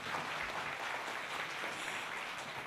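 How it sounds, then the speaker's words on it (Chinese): Steady applause fills the hall at a medical dedication award ceremony after an Andean band's energetic song and dance performance, a dense, even clatter of many hands held at a moderate distance throughout. "再次用热烈掌声谢谢他们"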